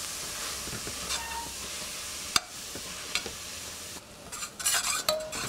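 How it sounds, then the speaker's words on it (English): Chiffonade cooks in melted butter in a saucepan over low heat, a faint steady sizzle broken by a few sharp clinks and stirring scrapes, no talk. "melt the remaining butter. Add the chiffonade."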